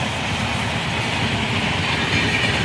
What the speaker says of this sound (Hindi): देखिए यहाँ पे जस्ट एक ट्रेन भी जा रही है